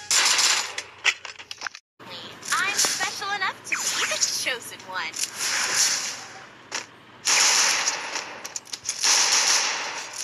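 Rapid gunfire from an M500 shotgun in a ranked Counter-Strike-style shooter game, with bursts of sharp shots, mechanical clicks and metallic rattles, broken by brief gaps, under a player's loud talking.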